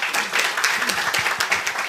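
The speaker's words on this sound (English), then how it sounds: "please also give a round of applause to Google for their support" Audience applause fills a New York City event celebrating the 50th anniversary of TCP/IP, a dense, steady wash of many hands clapping throughout, fairly loud with no clear talk over it.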